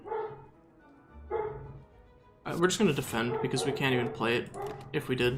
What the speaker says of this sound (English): Sorry about the dogs.